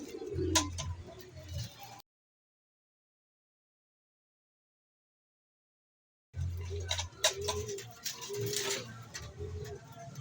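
Pigeons let out of a loft, with soft cooing and light flutters over a low background hum. A few seconds of total silence break up the sound.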